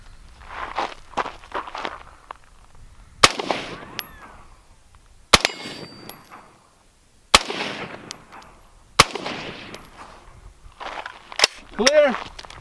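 Four sharp, loud rifle shots crack at uneven intervals as 5.56 and 7.62 rounds are fired at a stainless steel target, with people talking in between and around the reports.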